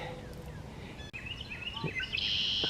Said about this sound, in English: I love that sound those red-winged blackbirds make.